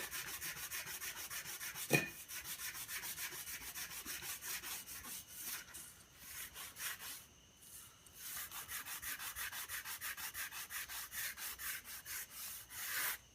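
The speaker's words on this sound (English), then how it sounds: "Sand in one direction only." Steady, close-up rasping strokes of sandpaper rubbing across wood, repeating in a quick even rhythm with a few short pauses.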